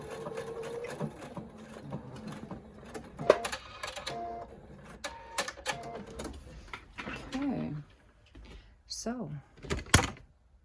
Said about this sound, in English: I'm going to go back to my straight stitch and just finish sewing it off.